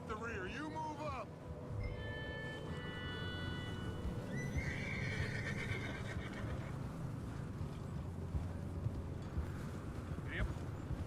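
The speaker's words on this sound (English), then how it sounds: "Hey, control that horse." A horse in a video game neighs loudly at the start, followed by steady hoof and movement noise beneath a continuous wind-like bed, with voices talking over it.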